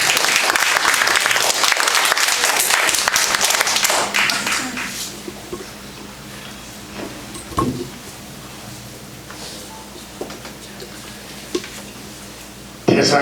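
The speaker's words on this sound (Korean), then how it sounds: "박수로 환영해 주시기 바랍니다" An audience at a Korean civic movement event claps loudly to welcome a lecturer, the dense applause lasting about four seconds before thinning out into a quiet room with a few scattered taps and thumps.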